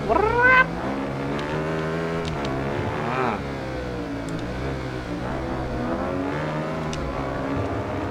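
A Horex VR6 Black Edition six-cylinder motorcycle engine revs loudly, its pitch sweeping upward in a brief opening burst, then settles into a steady, layered droning hum that rises and falls gently.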